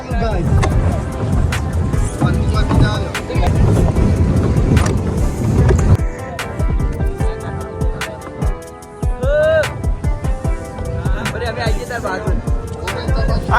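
Motorboat ride on open water near Tirupati, with a steady roar of engine and wind rushing loudly throughout while voices talk over it.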